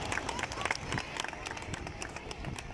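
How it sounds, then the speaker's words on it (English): Scattered applause from parents and spectators at an outdoor grade 1 and 2 boys' school sports day in Dubai, a steady crowd patter with murmuring voices underneath. "Please clap, parents, audience and all."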